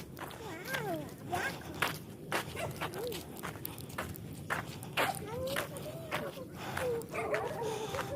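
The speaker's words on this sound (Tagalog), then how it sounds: "marami ting asong gala" Stray dogs in a residential subdivision barking, yipping and whimpering in scattered bursts at a moderate distance, with footsteps and people talking throughout.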